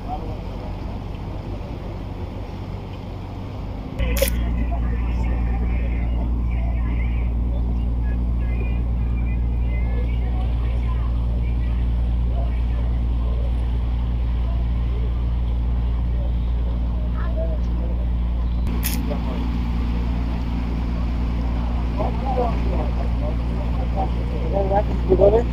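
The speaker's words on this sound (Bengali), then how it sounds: "বালুবাহী জাহাজ।" A sand-carrying cargo ship chugs along a tidal canal at Moju Chowdhury Ghat, Lakshmipur, its steady low engine drone starting abruptly and holding, with wind noise and faint voices.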